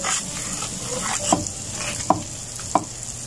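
Butter heating and sizzling in a pan before oatmeal pancake batter goes in: a steady close-up hiss with three sharp scraping stirs or taps.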